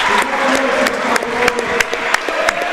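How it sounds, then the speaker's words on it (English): Crowd of Watertown basketball fans applauding Coach Roby's 500th career victory during a timeout in a boys' high school game at Sioux Falls O'Gorman. Steady sustained clapping fills the gym, with sharper individual claps standing out. "The Watertown fans in attendance applaud Coach Roby"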